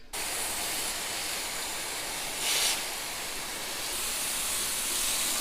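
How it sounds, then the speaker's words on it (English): A hose sprays water to wash down a car engine during a cam gear and timing belt job, a steady close hiss of running water with a slight swell midway. "I'm going to take a hose and just wash all this down"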